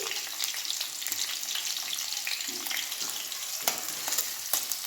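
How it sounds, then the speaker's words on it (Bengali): Ginger-garlic paste frying in hot oil with capsicum for a chicken curry, a steady close sizzle with light stirring scrapes running throughout, no talk. "দেড় চামচের মতন আদা রসুন বাটা দিলাম। আদা রসুনটা খুব ভালো করে ভেজে নিয়েছি"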